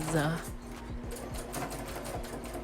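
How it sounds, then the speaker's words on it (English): A sewing machine stitches a pleated skirt into its waistband while making African attire, running in a steady rapid mechanical rhythm close by, with a brief voice sound at the start. "that's what I'm doing here, just sewing everything together"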